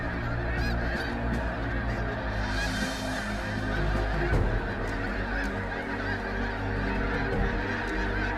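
A large flock of thousands of geese in Saskatchewan honks loudly and continuously, a dense, raucous chorus of overlapping calls close by.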